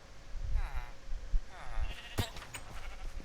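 Sheep bleating in Minecraft, two short wavering bleats over game background and a few thumps, with a sharp burst near the end; a voice comments nearby.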